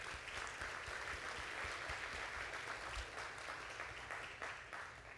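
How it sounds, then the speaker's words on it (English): An audience applauds student leaders at a talk, a dense, even wash of clapping that holds steady and tapers slightly toward the end. "All student leaders, round of applause."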